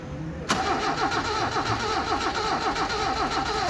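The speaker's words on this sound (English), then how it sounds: "I'm just going to crank it" A crashed Toyota KE70 car engine is cranked by the starter, a loud, rapid rhythmic chugging that kicks in abruptly and keeps churning without catching.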